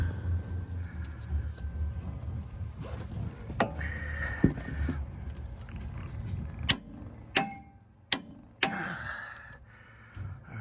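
A torque wrench tightening the sector shaft nut on a 2009 Jeep steering box, with low strained creaks and shuffling, then several sharp distinct clicks spaced about a second apart near the end, close and without talk.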